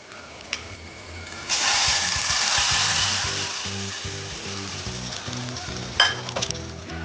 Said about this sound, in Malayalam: കടുക് വറുത്തു കഴിഞ്ഞാൽ ഉടനെ തന്നെ നമ്മൾ ഇത് അടയ്ക്കണം